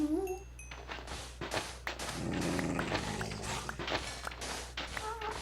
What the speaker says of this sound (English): And I hear that dog, and I'm ignoring that dog.